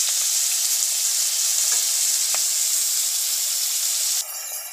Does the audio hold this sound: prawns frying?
yes